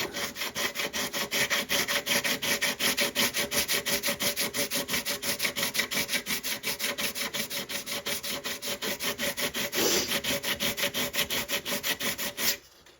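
80-grit sandpaper is rubbed in quick, even back-and-forth strokes over a guitar body being prepared for primer, a close rhythmic rasping that continues for about twelve seconds before stopping.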